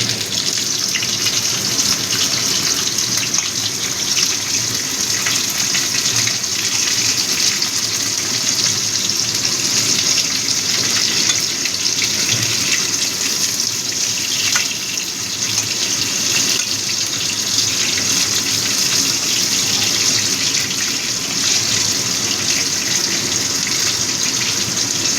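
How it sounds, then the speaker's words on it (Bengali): Pumpkin frying in a pan, a steady, loud hiss and sizzle that runs unbroken throughout, with no voices. "এই কুমড়োটাও একটু ভেজে নেব"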